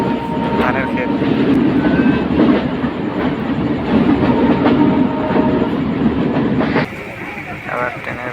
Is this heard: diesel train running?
yes